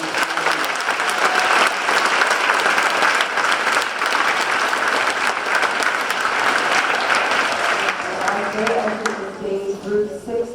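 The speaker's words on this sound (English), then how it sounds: "Please give a big round of applause to these." Sustained audience applause fills an auditorium at a youth assistance awards ceremony, dense and steady clapping for several seconds before fading, with a voice starting to speak near the end.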